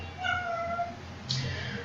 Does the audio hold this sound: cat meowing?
yes